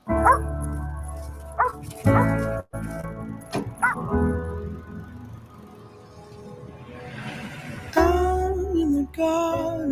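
A dog barks and yips in loud, close, irregular bursts, with whimpering tones between, sometimes overlapping voices of people talking.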